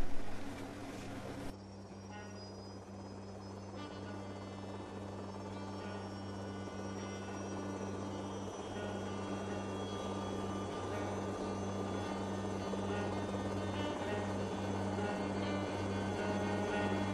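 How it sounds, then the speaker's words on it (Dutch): A helicopter carries farm women onto the island of Terschelling for the Oerol festival; a steady rotor and engine drone holds loud and close throughout, with a sharper burst at the very start and no talking. "En de boerenvrouwtjes die komen aan op het eiland met een helikopter."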